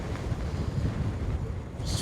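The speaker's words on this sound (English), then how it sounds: "it wasn't supposed to be this windy tonight" Strong gusting wind buffets the microphone on an exposed fell during a wild camping trip, a steady loud broadband roar with no break, rising slightly at the very end.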